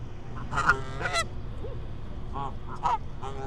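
A goose honks aggressively several times in short loud bursts over a steady outdoor background, recorded in the Old Mill district of Pigeon Forge, Tennessee.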